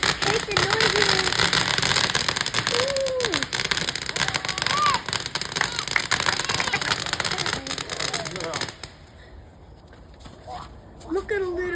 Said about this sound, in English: I gotta get a good angle of these fireworks, bro.